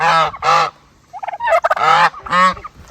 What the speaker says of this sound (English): You should tell Goose to be quiet.